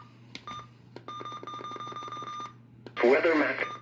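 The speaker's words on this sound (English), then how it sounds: "the button beeps on the RunningSnail MD319" A RunningSnail MD319 radio gives simple electronic button beeps, a quick run of short tones with a steady hum underneath, and a voice comes in near the end.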